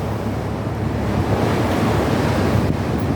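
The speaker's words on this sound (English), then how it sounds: "The blue sea is there." Sea surf rolls in as a continuous broadband wash, with wind buffeting the microphone and a low rumble throughout, close and fairly loud with no voices.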